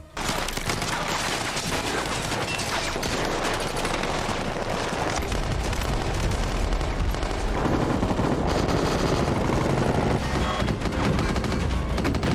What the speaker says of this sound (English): you're going to be subjected to the constant sound of gunfire